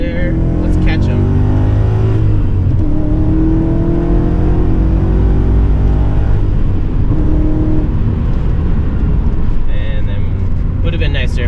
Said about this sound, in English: This car likes to go fast.